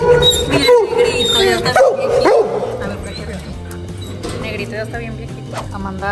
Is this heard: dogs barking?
yes